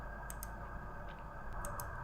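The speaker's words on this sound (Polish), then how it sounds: "oraz klikamy przycisk Play." A few faint, light mouse clicks in pairs pressing a Play button to run a Kawasaki Astorino educational robot program, over a steady, loud mechanical hum.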